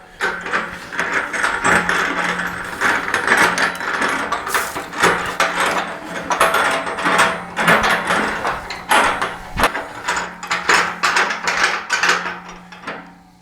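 Ratchet wrench spinning bolts down on a frame jig holding a rusty 1972 Firebird, a steady run of fast mechanical clicks and rattles in bursts across the clip, close and fairly loud with no talk.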